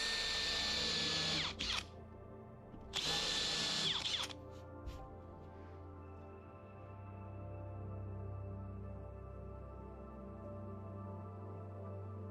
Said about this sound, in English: I'm going to countersink some screws to secure the top of our railing.